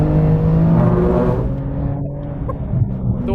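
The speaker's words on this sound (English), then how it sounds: "you end up cruising on the Nordschleife with the record-breaking GT2 RS MR" A 700 hp Porsche 911 GT2 RS MR drives on the Nordschleife, its engine a loud, close, sustained roar that eases off midway and settles into a lower drone.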